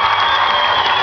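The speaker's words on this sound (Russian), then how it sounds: "Итак, Гайрат, ваши аплодисменты." Audience at a dance ensemble concert in a palace of culture applauds and cheers a young contestant, a dense, steady wash of clapping and crowd noise filling the hall, loud and continuous.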